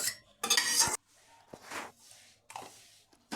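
Metal spatula scrapes and clinks against a frying pan of beans in short bursts, with soft stirring sounds between them.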